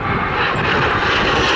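A BAC Strikemaster jet flies past at Southport Airshow 2022, its engine a loud, close, continuous broadband roar that fills the whole moment without a break.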